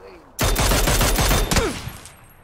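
Shotgun fire in the video game PUBG: a sudden loud volley of close, rapid gunshots with sharp cracks that lasts about a second, then decays into a trailing rumble.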